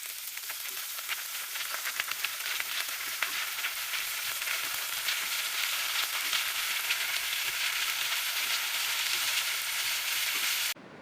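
Small pakoras fry in hot oil in a frying pan over a medium flame, giving a steady, dense sizzle with fine crackles that holds evenly throughout and cuts off at the very end.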